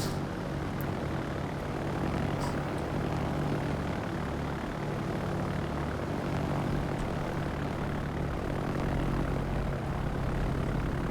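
Propeller aircraft engines from the World of Warships naval game drone steadily and loudly throughout, a continuous low buzzing roar of planes with no talk over it.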